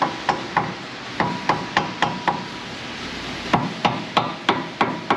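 A hammer strikes a ball joint on a 2000 Nissan Frontier 3.3 4x4, close and loud metallic blows landing in quick bursts of two or three, with short pauses between groups.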